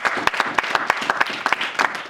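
A church congregation claps along together, a dense run of hand claps with sharp, rhythmic accents spaced about every quarter second, loud and close, with no speech over it.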